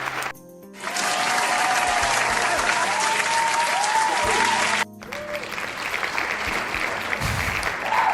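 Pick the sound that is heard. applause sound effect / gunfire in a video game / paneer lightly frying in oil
applause sound effect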